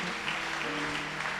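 A church congregation applauds the Lord, a steady wash of clapping from many hands that fills a large room for a brief moment.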